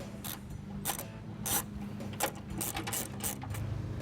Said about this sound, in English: just tighten them down with a 13mm socket